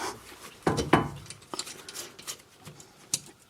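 A threaded part is turned by hand into the upper control arm on a Mercedes suspension: soft, close scraping and rubbing with a few sharp metallic clicks, fairly quiet, with no talking.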